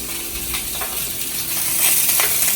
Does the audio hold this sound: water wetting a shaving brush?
no